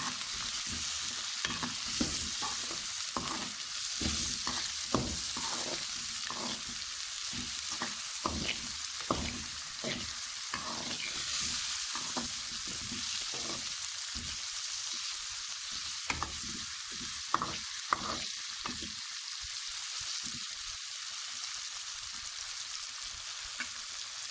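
Cauliflower and chilies are stirred in a frying pan. Repeated scraping strokes sound over a continuous, close sizzle, with no voices.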